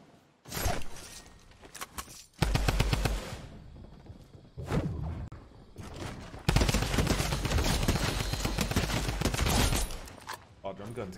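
A drum gun fires in the battle royale game Fortnite, several long rapid bursts of automatic gunfire mixed with whooshes and impacts, loud and close, broken by short gaps.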